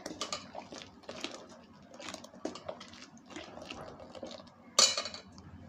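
A homemade lemon dishwashing gel is stirred in a bowl, producing quiet, repeated clinks and scrapes of a utensil against the bowl in an uneven rhythm, with one sharper knock near the end.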